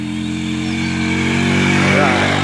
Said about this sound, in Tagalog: Tapos nakita nyo yung dumadaan na motor.